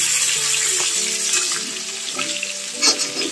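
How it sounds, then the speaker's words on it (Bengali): Katla fish fries in an iron wok with a steady, close crackling sizzle throughout, broken by a few scraping stirs and soft clinks of a utensil against the pan. "দেখুন লোহাই কড়াইটার মধ্যে ভাজছি।"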